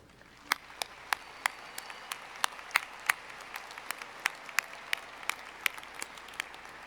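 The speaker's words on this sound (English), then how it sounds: "I would appreciate it if you could please recognize these individuals by giving them a round of applause" A university commencement audience applauds honorees at Eastern Washington University's 2017 ceremony, dense crowd clapping with sharp, prominent individual claps standing out near the microphone, steady and continuous.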